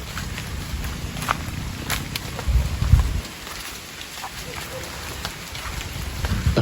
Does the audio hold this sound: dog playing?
no